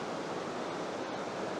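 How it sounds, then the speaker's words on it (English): A flowing river sends up a steady, full wash of rushing water that stays even and continuous throughout, fairly close, with no voices or other sounds. "The river is beautiful today."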